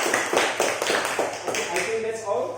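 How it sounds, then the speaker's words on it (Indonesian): Rhythmic hand clapping from a small group in a classroom lesson, sharp evenly spaced claps close by with some voices underneath. "tepuk tangan."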